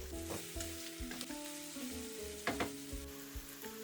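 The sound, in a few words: vegetables sauteing with garlic, ginger, thyme and bay leaves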